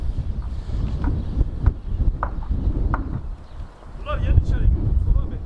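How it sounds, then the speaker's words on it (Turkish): Steady wind rumble buffets the microphone in snow, with scattered soft clopping and rustling from running Jersey cattle and brief animal-like sounds near the end. "bayağı da rüzgar var."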